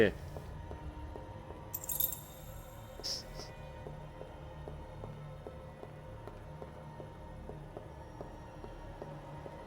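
Keys jangle faintly in the horror game Nightmare Shift, a brief metallic rattle early on over a quiet room tone with soft scattered ticks and a low hum.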